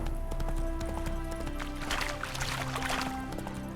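Horse hooves clip-clopping in The Witcher 3, a steady run of hoof beats under game music and ambience throughout, close and moderately loud.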